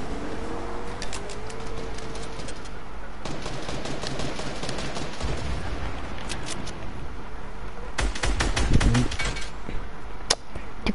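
Rapid bursts of gunfire in the video game Fortnite, crackling volleys that come and go, then turn louder and denser near the end, with no voices over them.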